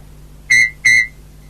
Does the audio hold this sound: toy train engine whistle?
yes